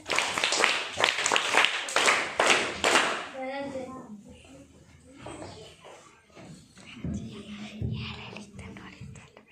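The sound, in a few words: clapping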